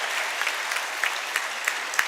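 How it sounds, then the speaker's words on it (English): Audience applause for Mrs. Malika Ariwala at a Model United Nations conference, a steady continuous patter of many hands clapping, moderately loud and unbroken throughout, with a few sharper individual claps standing out. "So a big round of applause for Mrs."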